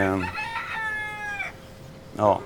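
Chickens on a farm: a rooster's crow rings out near and loud at the start, followed by shorter clucking calls from the hens, with a brief squawk near the end.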